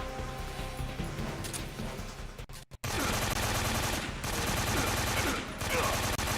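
Rapid bursts of heavy gunfire from a weapon in the video game Metal Gear Solid 3, loud and sustained, broken by a brief drop to near silence before the shooting resumes.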